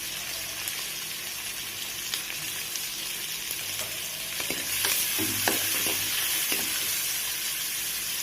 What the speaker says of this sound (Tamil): பச்சை மிளகாய் போட்டுக்கோங்க. முட்டைக்கோஸ் போட்டுக்கோங்க.